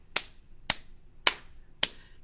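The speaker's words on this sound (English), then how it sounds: "let's clap for Boyd" Four separate sharp hand claps ring out at a steady pace at toddler time, crisp and fairly close, with quiet gaps between them.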